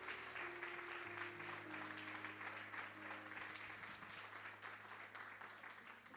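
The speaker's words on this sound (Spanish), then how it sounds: "¿Cuántos le dan un aplauso fuerte al Señor?" A church congregation breaks into loud, sustained applause that fills the sanctuary for several seconds, with a low musical drone held underneath.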